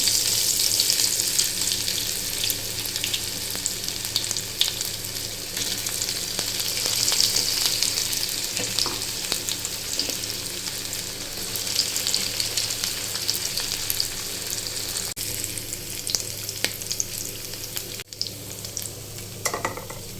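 Paneer pieces sizzling and frying in hot oil in a pan for a Tamil-style paneer fry, a steady crackling hiss throughout with occasional brief clicks of a utensil, close and fairly loud, no talking.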